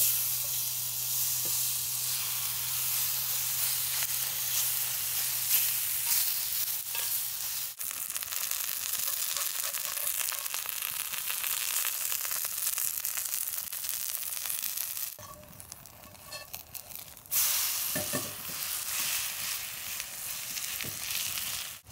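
Oil sizzles steadily in a hot frying pan, a dense, continuous hiss lasting the whole stretch, briefly dropping quieter near the end before surging back up, close and with no talking.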